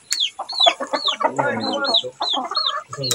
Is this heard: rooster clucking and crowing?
yes